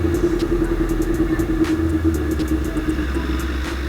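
Motorcycle engine revving high after a CDI swap, a constant loud buzzing drone held near the redline with a low rumble underneath, no talk.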